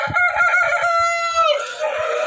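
A rooster among broiler parent stock chickens on a poultry farm gives one close, loud, drawn-out crow that trails off, with soft clucking beneath it.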